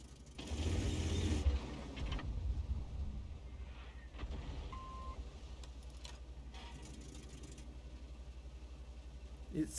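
A Rheinmetall Skorpion G tank in a video game gives off a low, steady engine drone, with mechanical clanks and ratcheting over it in the first couple of seconds, then a quieter, continuous rumble.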